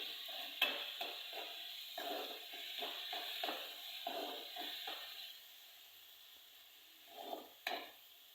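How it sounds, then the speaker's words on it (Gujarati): A spoon stirs chilli powder, sugar and other spices sizzling in a hot pan, scraping in short strokes over a steady frying hiss, then a pause and two final scrapes. "હવે આપણે આને હલાવી નાખીએ સરસ"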